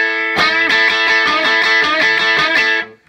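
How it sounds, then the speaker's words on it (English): A distorted electric guitar plays a quick rhythmic riff of repeated chords, loud and gritty, ending abruptly after about three seconds. "Add a little bit of distortion and it just sounds cool."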